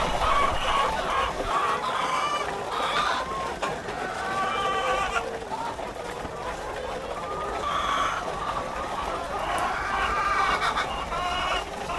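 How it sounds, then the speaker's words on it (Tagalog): RTL laying hens clucking together in a busy chorus while pecking at feed during a morning farm routine, steady and close, with overlapping calls throughout and a person talking over them. "yung sabay-sabay silang tumutuka"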